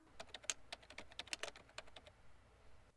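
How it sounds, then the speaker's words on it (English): Fingers typing a search into a computer keyboard, about a dozen quick, close, soft clicks in uneven bursts that taper off into quiet near the end, with no talking. "All you do is type in what you're looking for into the search bar,"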